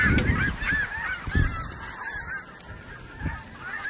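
Snow geese honk continuously during a hunt, a dense chorus of overlapping nasal calls from a large flock in open fields, with a few low thumps underneath and no talking.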